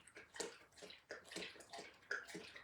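A pet lapping drinking water, a quick rhythmic series of soft wet laps and slurps repeating about twice a second, close and fairly quiet.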